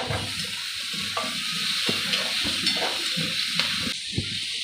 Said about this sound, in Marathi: आणि हा कांदा जो मी चिरून घेतलाय तो टाकते